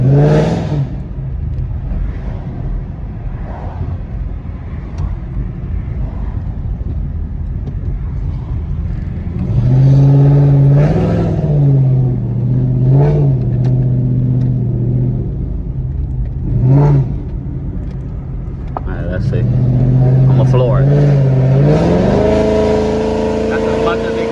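Chrysler 300C fitted with a Corsa exhaust revving in repeated rising pulls, a loud low engine rumble that swells and drops, with someone talking over it.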